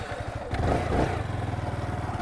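A motorcycle being ridden thumps with a steady, rhythmic engine pulse, swelling louder as the throttle opens about half a second in, then settling into an even chug close by.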